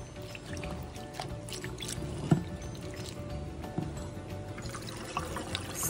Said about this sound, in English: Wash and clean just means rinsing the Sorrel off any dirt or dirt